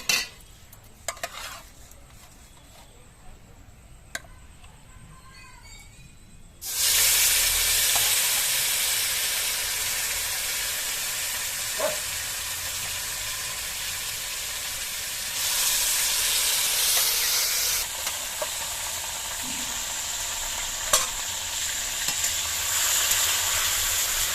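Boiled, drained taro leaves hit hot tempering oil in a pan, setting off a sudden loud, sustained sizzle after a few quiet seconds, which keeps hissing and flares louder again partway through.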